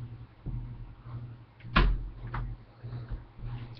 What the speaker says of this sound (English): I have to shut my door because I don't want my cat come in.